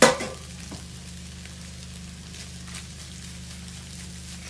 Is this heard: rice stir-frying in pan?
yes